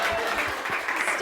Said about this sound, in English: Standing applause from the Peanut Gallery.